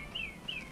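Two thin, high bird chirps sound faintly outdoors at night over a low steady background hum, each note brief and evenly spaced.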